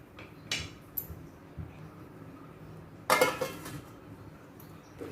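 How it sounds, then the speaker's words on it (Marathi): A spoon stirs vegetable curry (bhogichi bhaji) in a pan, making a few scattered clinks and scrapes of metal on metal, one louder clatter midway, over a faint quiet background with no speech. "वारंवार आपण थोड्या वेळाने थोड्या वेळाने असं चमचा मारून ढवळून घ्यायची असते भाजी"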